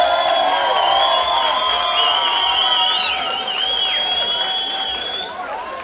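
A stand-up comedy audience cheers loudly with shrill whoops and shouts over steady applause, a thick crowd roar that eases slightly toward the end.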